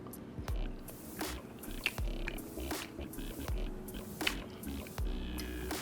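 Brussels sprout gratin with Parmesan cheese being eaten, with close crunchy bites followed by soft chewing that repeats in an uneven rhythm and no talking.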